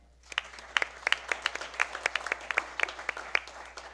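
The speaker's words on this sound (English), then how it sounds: "Now, another round of applause to him." A small audience claps at a school board of education meeting, with distinct individual hand claps rising from quiet into a sparse, uneven patter of sharp, close claps that continues steadily.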